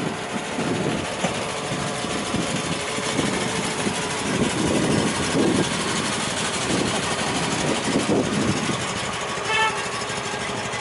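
A restored 1980 Renault R4 L engine idles steadily with a low, rumbling drone, close and continuous, with faint voices briefly audible in the background.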